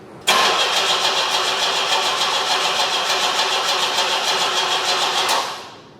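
A 1973 Opel Ascona engine, abandoned for years, cranks steadily and loudly with a fast rhythmic whirring pulse for about five seconds, then cuts off without catching.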